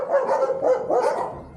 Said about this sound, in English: all dogs tied up, barking away